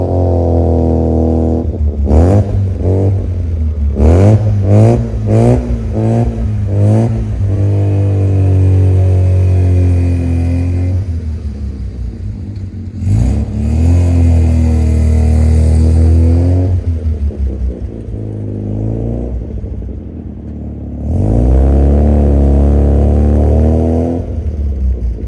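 A 1981 Mazda RX7 rotary engine fitted with an eBay header and Borla muffler, with a possible exhaust leak, idling then blipped in quick repeated revs and longer pulls, loud and near.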